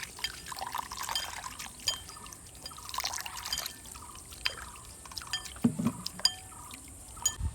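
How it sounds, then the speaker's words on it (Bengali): Water poured and splashed while plant roots are washed clean by hand: a steady trickling and pouring with drips and wet rustling, close, plus a few clinks, and no talk. "এবারে এই ভালো করে জল দিয়ে শেকড়গুলো পরিষ্কার করে নেওয়া হবে।"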